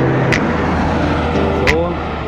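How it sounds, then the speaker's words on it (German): Cars pass along a quiet side road on a bicycle tour, a low steady traffic rumble with a couple of brief swells beneath continuous talking. "ein paar Autos, wie man hört"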